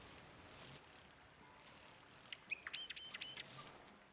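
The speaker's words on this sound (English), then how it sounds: "Actually, I think I already recorded that bird." A bird gives a quick burst of rapid chirping notes outdoors, fairly close and clear against a quiet, faintly hissing background, with a fainter call shortly before.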